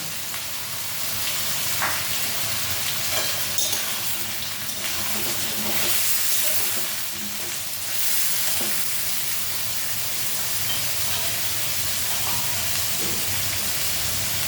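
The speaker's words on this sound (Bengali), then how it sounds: "এটা একটু ভাজা হবে।" Fish sizzles steadily in oil in a pan, a loud continuous frying hiss with a few small clicks and stirring knocks scattered through it.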